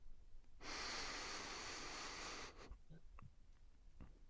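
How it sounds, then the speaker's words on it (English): A slow inhalation through both nostrils during a calm breathing exercise: one long, soft rushing breath that swells and then fades, followed by quiet faint sniffs and small noises. "Let's start by slowly breathing in through both nostrils"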